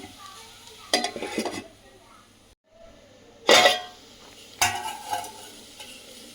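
A spoon stirs mango and dried fish curry in a pot, giving three short bursts of scraping and sizzling separated by quieter pauses, with a brief silent gap in between.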